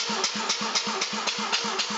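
A Mazda RX7 13B rotary engine cranks on its starter during a compression test, giving a steady, even chug of about four pulses per second, close and loud throughout.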